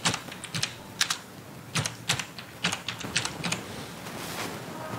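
Keystrokes on a keyboard come in irregular bursts of sharp clicks while a message is typed, with short pauses between the clusters and no voices.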